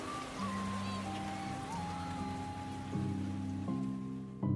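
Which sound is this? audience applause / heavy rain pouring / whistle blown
heavy rain pouring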